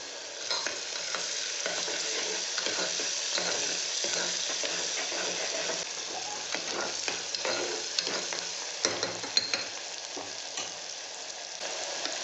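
Green peas sizzling steadily in hot oil for a Telugu-style beans and pea curry, a continuous close crackle with small irregular pops and occasional stirring scrapes, heard alone without talk.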